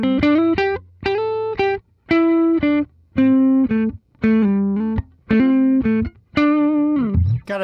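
Gibson Reve electric guitar on its neck pickup gives a warm, bluesy, jazzy tone, played as a run of separate chords and short phrases that ring out and stop in turn, close and fairly loud with no talking.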